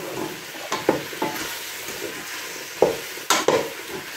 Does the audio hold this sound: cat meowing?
no